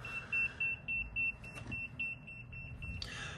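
ERICKHILL EMF meter beeping beside a camera light: a steady train of high, evenly spaced electronic beeps pulses over a low background hum, close and fairly clear, with no speech.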